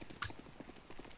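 Horse hooves in a video game clip-clop in a quick, faint, uneven rhythm of soft thuds, low in level.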